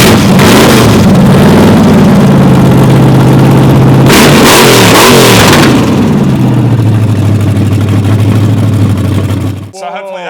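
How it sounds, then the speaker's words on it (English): V8 engine in a car revved hard, a loud roaring blast with rising and falling pitch swells around the middle, settling into a sustained drone before cutting off abruptly, followed by a short bit of speech. "If you're into the noise of V8s, turn them up."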